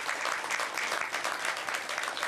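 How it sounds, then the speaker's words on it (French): Dense, steady applause from an audience at an award ceremony honouring decorated recipients, loud and continuous throughout with no voices over it. "je vous demande de les applaudir très très fort"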